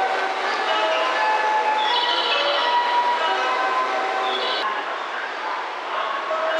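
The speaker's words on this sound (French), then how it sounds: "Pas mal quand même des trains plutôt anciens comme ça, d'en voir de temps en temps." An older series 200-201 train passes close by with a loud, sustained rolling roar and a ringing horn or whistle tone, with no talk.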